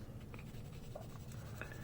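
A graphite pencil scratches across drawing paper in quick, faint strokes, up close and with no voices.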